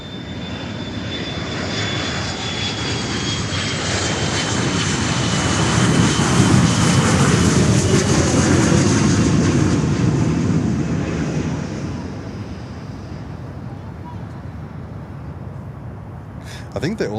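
An MD-83 jet airliner at Miami airport roars past, its engine noise swelling to a broad, loud peak midway and then fading into the distance, with a high whine running throughout.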